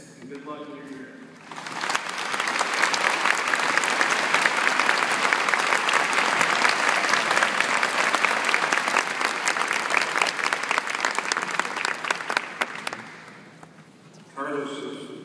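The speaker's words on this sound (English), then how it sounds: "One more round of applause for Carlos." A large audience gives a speaker named Carlos a long, loud round of applause. It swells quickly and holds dense and steady for about ten seconds, then fades, with talk before and after it.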